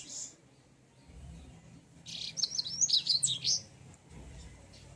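A songbird sings a bright, rapid run of chirps and trills for a couple of seconds, fairly close, over a low background hum; the bird is in beak moult.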